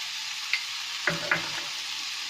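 Soya bean fry with turmeric, garam masala and salt is mixed in a pan over a low flame: a soft sizzle under a few brief scraping knocks of the spoon.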